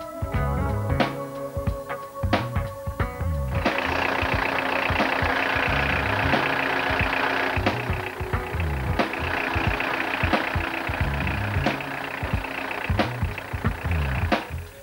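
A Citroën DW12 TED4 2.2 HDi diesel engine idles close by with a steady clattering knock, a lighter tone at first that thickens into a fuller, louder rumble after a few seconds and then runs on evenly.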